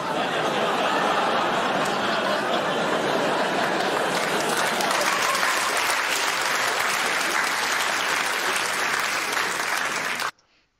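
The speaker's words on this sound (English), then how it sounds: "Everybody clapped and applauded" Dense, loud applause from a comedy club audience during a Jimmy Carr stand-up set, steady and sustained for about ten seconds with a few chuckles mixed in, then cutting off abruptly.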